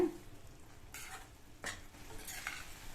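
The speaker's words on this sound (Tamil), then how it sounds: "தேங்காய் பால் சேர்த்துட்டு நல்லா ஒரு தடவை கலந்து விட்டுருங்க." Mushroom thokku is stirred after coconut milk goes into the pan, a quiet, soft simmering hiss with a few brief scraping strokes of a spoon against the pan.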